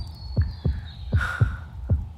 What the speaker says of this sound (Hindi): तेरी धड़कन इतनी तेज क्यों चल रही है?